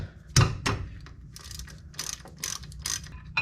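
A ratchet breaking loose 12mm brake caliper bolts on a 99-05 Grand Am gives two sharp loud cracks followed by quick runs of close, rapid clicking pawl ratchet strokes.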